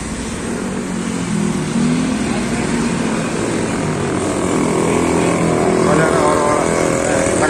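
A Kawasaki Barako motorcycle engine runs steadily on a road test, a loud, continuous droning rumble that builds slightly as it goes.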